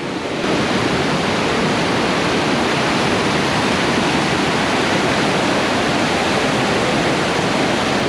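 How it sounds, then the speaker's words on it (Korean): Jangsaeng Falls, a natural waterfall below cliffs in a mountain valley, pours with a continuous loud roar of rushing water, close and unbroken, with no talking. "장생폭포입니다"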